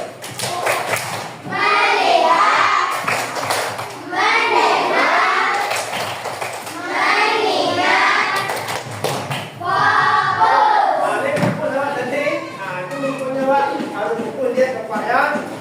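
Primary school pupils clap their hands in a classroom, rhythmic bursts of claps and thumps mixed with children's chanting voices, loud and close, repeating through the stretch.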